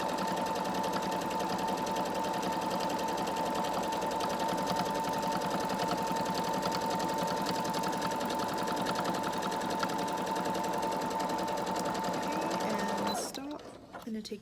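Domestic sewing machine stitching a bra, a steady, fast mechanical whir running continuously for over twelve seconds before stopping abruptly.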